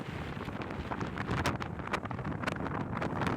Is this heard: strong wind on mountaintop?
yes